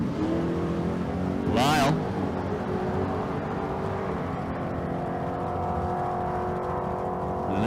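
Drag race cars, an 85 Ford Mustang in the right lane and a newer Camaro, rumble steadily at a street car event in Las Vegas, with a brief sharp rising whine early on and an announcer talking over the engines.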